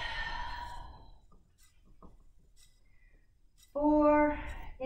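A child breathing out during an outdoor kids' exercise session, a soft sighing exhale that fades, followed by a brief breathy sound, then a voice begins near the end.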